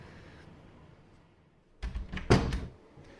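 A big freezer door swings shut with a solid thud, followed by brief rattling clunks as it is locked, loud and close after a quiet lead-in.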